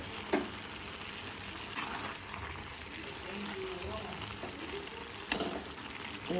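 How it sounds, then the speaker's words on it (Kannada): Cabbage palya sizzles and fries steadily in a pan, with a few scraping knocks as it is stirred and a person talking over the constant hiss. "ಈಗ ಮತ್ತೆ ಸ್ವಲ್ಪ ತಿರುಗಿಸಿ ಮತ್ತೆ ಮುಚ್ಚಿಡಬೇಕು"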